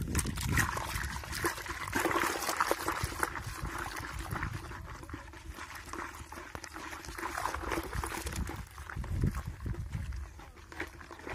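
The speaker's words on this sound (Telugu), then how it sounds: "చేత్తో కలుపుదాం ఇప్పుడు మనం." Hands stir Surf detergent water in a bucket, giving close, wet sloshing and trickling splashes in uneven surges that rise and fade over several seconds.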